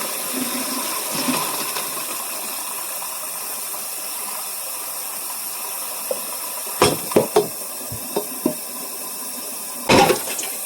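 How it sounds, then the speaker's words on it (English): Cooked rigatoni and its water dumped into a colander in a sink: a rushing wash of pouring water followed by several sharp metallic clanks and bumps as the pot and colander knock together. "you got to be very careful when you dump it into your colander in the sink"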